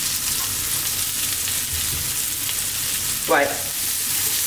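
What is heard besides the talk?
vegetables frying and being tossed in a pan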